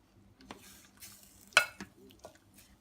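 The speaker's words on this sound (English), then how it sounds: "Give it a stir." A spoon stirring a pot of goulash, a few faint scrapes and a sharper metallic clink against the pot amid quiet pauses.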